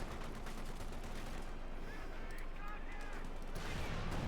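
Machine gun and artillery fire from the real-time strategy video game Company of Heroes 2, a continuous dense rattle of distant shots and thuds, with a voice talking over it throughout.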